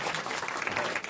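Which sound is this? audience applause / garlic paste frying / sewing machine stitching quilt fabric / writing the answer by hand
audience applause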